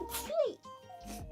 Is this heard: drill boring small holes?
no